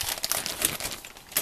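Plastic bags holding parts of an Italeri M60 Blazer 1/35 tank model kit crinkle and rustle close up, a steady run of dense crackling with a few sharper crinkles, no talk.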